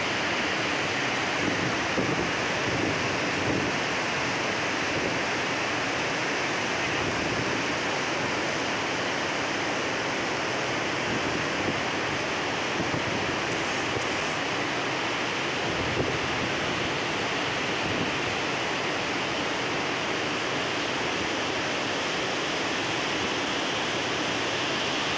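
Water gushes from opened dam gates as a massive release, a continuous loud roaring rush that stays dense and unbroken throughout, with no voices.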